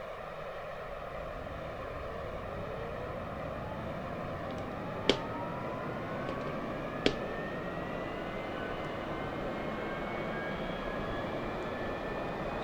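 A T-45C Goshawk jet engine spools up in the DCS flight simulator, a steady, rising whine and roar that builds over several seconds, broken by two sharp clicks.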